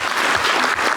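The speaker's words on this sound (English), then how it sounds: "I think everyone give it a good round of applause." Enthusiastic audience applause after a conference talk, a dense steady wash of clapping that fills the whole moment at close range, with no voices over it.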